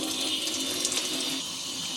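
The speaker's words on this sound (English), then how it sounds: "So I'm just going to give them a rinse" Tap water running steadily into a sink as foraged plants are rinsed, a soft continuous splash and hiss with small fluctuations, close but fairly quiet.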